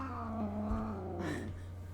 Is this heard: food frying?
no